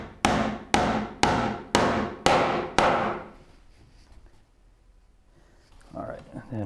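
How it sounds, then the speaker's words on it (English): A cross peen hammer drives nails into a wooden rolling cabinet base in six sharp, evenly spaced strikes, each ringing briefly before a quiet pause. A voice starts speaking near the end. "the cross peen should be hitting the nail basically the same orientation"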